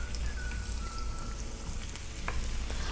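Chopped ginger and garlic sizzle steadily in hot oil in a pan, a continuous close frying crackle with no talk.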